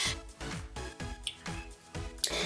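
A wig submerged in a bowl of watercolour-method hair dye makes rhythmic wet squishing and sloshing, repeated dunks about every half second, close and fairly loud with no voices.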